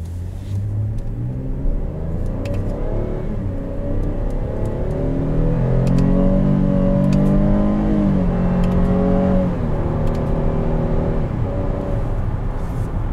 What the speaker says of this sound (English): And when we accelerate, I'm going to use the paddles to shift up through the gears.